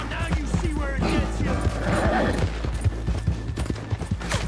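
Horse hooves clop in an irregular, fairly close rhythm while riding in the video game Red Dead Redemption 2, over a low steady drone with some faint game sounds mixed in.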